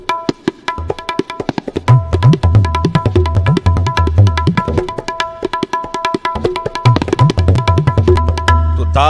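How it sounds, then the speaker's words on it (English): Tabla playing a qaida in the Delhi Gharana style, rapid dense strokes with resonant bass drum swells and ringing treble tones, loud and close with no voices. "if I'm playing a qaida or a composition from the Delhi Gharana, it would typically sound like this"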